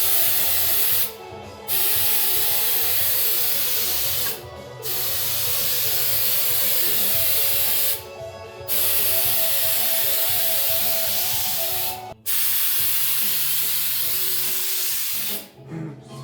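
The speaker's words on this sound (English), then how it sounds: "I'm just getting the wheel well with the undercoating." Undercoating sprayed into the wheel well of a Nissan 240SX in long hissing bursts, four or five steady passes separated by short pauses, close and loud with no talk.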